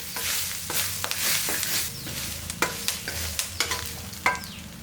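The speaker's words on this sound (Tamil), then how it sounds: "தேங்காயை இந்த கருவேப்பிலையோடு சேர்த்து நல்லா வறுத்துடலாம்." Coconut and curry leaves fry in oil with a constant sizzle, while a spoon stirs and scrapes, sending out scattered sharp clicks near the pan.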